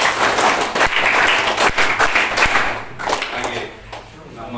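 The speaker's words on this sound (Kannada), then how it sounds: "ಅವರಿಗೆ ಹೃತ್ಪೂರ್ವಕವಾದ ಒಂದು ಸ್ವಾಗತ ಚಪ್ಪಾಳೆಯನ್ನು ಕೊಡೋಣ." An audience at a school event gives a hearty welcome round of applause, a dense, sustained wash of clapping that thins and softens toward the end.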